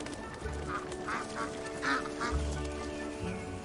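Chinese mergansers call near a forested river, a series of hoarse, repeated duck quacks and honks at moderate distance over a low background hum of the wild setting.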